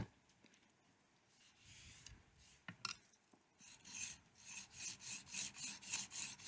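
Steel knife blade drawn across a finer grit sharpening stone, a soft raspy scraping that builds into a steady run of rhythmic strokes, close and moderately loud with no talking.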